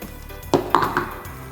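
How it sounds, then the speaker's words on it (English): A blender being opened for smoothie making gives a few short hard clicks and clatters of plastic and glass parts, close by, in quick succession over a quiet background. "Open up your blender"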